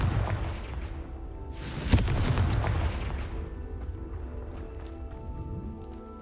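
A Confringo fire spell goes off in Hogwarts Legacy, a sharp blast with a roaring burst of flame over a dense backdrop of game combat noise.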